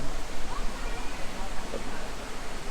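The Khlong Phu waterfall on Koh Chang rushes as a steady broadband wash of falling water, close and continuous.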